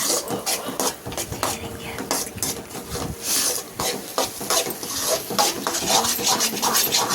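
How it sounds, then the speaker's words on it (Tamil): Egg fried rice being stirred in a pan at home, with a spatula scraping and clattering continuously against the pan at close range, steady and busy with no pauses, no talk. "கைவிடாமல் லைட்டாக நல்லா கிளறுங்க."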